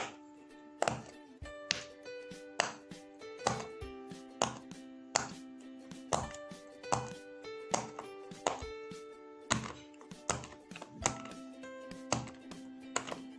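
Crisp, repeated popping clicks in a steady, uneven rhythm as bubbles of a silicone pop-it fidget toy are pressed one after another, close up with no talking.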